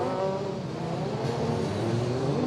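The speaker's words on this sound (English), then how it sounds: "trying to get the cars a little bit sideways and force some temperature into the tyres. So up to the grid they will come." Formula 3 race cars rumble up to the starting grid at Silverstone, a continuous loud engine drone with shifting pitch from several cars moving slowly together, with no talk.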